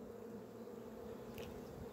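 Honey bees buzz steadily at a hive during an inspection of a newly hived swarm, a dense continuous hum close by with no voices over it.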